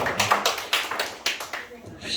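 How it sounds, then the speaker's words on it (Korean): A small group in a church service claps briefly for a young member named Minbin, a quick scattered burst of handclaps that thins out and fades within a couple of seconds. "민빈이 박수 보내줄까요?"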